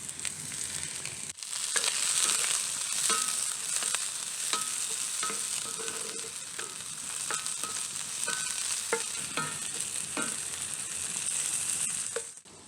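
Spring onion, mushrooms and garlic fry in olive oil in a pan, giving a bright, even sizzle close by, punctuated by light scraping and tapping from stirring.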